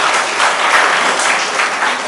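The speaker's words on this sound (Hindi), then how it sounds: "तो एक बार आपके लिए भी 2000 तालियाँ हो जाएँ।" Loud, dense applause from an audience at a National Service Scheme plantation drive event honoring volunteers, continuous clapping close by for a couple of seconds with no voices on top.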